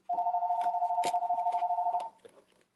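A phone line rings while waiting for someone to pick up, one long steady pulsing ring tone heard close and clear for about two seconds before cutting off into faint background noise.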